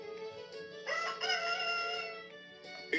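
A rooster sound effect from a VTech Ordi Genius Kid toy laptop crows one drawn-out cock-a-doodle-doo, clear and electronic, with a brief clucking tail at the end and no talking.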